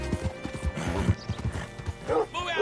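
Horse hooves clip-clopping in Red Dead Redemption 2, a quick run of close, rhythmic hoof strikes that slows near the end, where a voice speaks over them.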